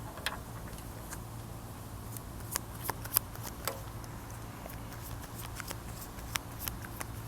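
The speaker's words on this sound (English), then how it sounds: "let's go ahead with finish this shuffle" Tarot cards are shuffled by hand with soft riffling and scattered crisp flicks and taps, quiet and close against a low background hum.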